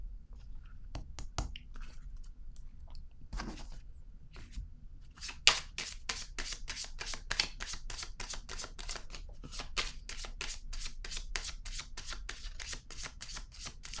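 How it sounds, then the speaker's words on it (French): Tarot cards are handled and shuffled close by, a few soft taps followed by a long, quick, even riffle of crisp card flutters, fairly quiet with no talking. "je vais déposer une autre carte ici."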